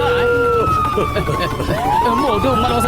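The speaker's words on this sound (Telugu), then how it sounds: "పోలీస్ సైరన్ వినగానే నా కాళ్ళు వాటంతటా అవే పరిగెత్తాయి" Police siren in a Motu Patlu cartoon, a wailing tone that rises and falls in pitch under cartoon voices talking over it.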